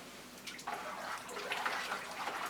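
Water runs steadily from a tap into a bucket used for watering potted orchids, a continuous hiss and splash at moderate level with no talking.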